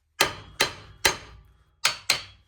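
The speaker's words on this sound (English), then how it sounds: "Use a hammer, hit this knuckle, and try to loosen it up." A hammer strikes the steering knuckle of a Buick LeSabre five times in quick succession, sharp metallic clanks with short ringing decays, close and loud, the last two blows coming closer together.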